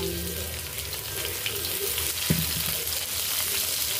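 Chopped onion sizzling steadily in a hot pan for eggplant adobo, a continuous broadband frying hiss with a brief clatter midway, no talk.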